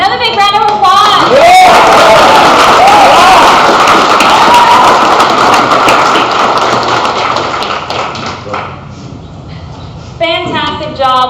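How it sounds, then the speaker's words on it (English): An audience at a business pitch competition claps in a dense burst that swells early and then slowly tapers off, with a voice briefly heard at the start and again at the end. "Another big round of applause."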